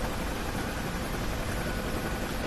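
A UH-1 Huey helicopter's engine and rotor in the combat flight simulator DCS, a dense, constant roaring whine heard from inside the aircraft, loud and unbroken.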